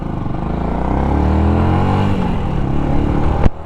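A Yamaha YZF R125 motorcycle being ridden, its small engine droning loudly and steadily with a rising and falling pitch, ending in a short thump.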